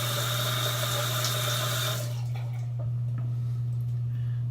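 A safety razor rinsed under a running tap while shaving, a steady close stream of water for about two seconds, then quieter drips and small clinks as the flow stops.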